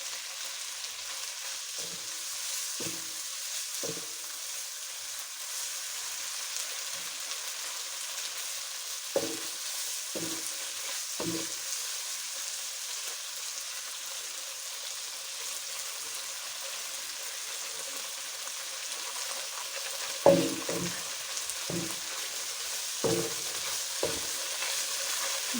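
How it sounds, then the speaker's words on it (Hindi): Spicy Thai rice noodles stir-fry in a pan, with a steady soft sizzle under a handful of sharp utensil scrapes and taps against the pan at irregular intervals. "एक 4-5 मिनट इसको फ्राई करेंगे।"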